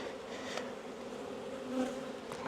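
A swarm of honeybees being gathered into a hive hums with a steady, dense buzz that stays close and even throughout, with slight swells in intensity and no voices.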